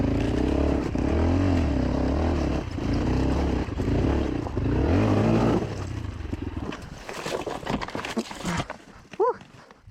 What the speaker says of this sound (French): je me mets en deuxième et je maintiens l'embrayage dans un point de, on va dire, de patinage que je connais assez bien